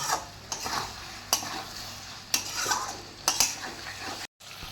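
Masala frying in oil for fish curry sizzles steadily as a spatula stirs it, producing regular scraping strokes about once a second against the pan, with a brief silent gap near the end.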